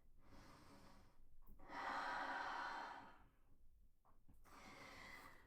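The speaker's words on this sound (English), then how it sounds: "Big breath in and out." Slow deep yoga breathing: a long airy inhale swells in the middle, then eases into a softer exhale, close and quiet, with faint background hiss.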